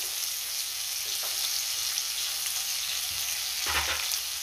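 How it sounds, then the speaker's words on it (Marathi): Onion frying in oil in a pan on the stove while cooking paneer kaju masala, a steady close sizzle with a brief louder burst of stirring near the end. "आता आपल्याला ह्याच तेलामध्ये कांदा घालायचा आहे आणि कांदा चांगला परतून घ्यायचा आहे"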